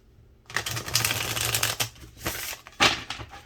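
Tarot cards are shuffled close up in a run of dense riffling bursts, a short pause, then a final sharp shuffle, with no talking.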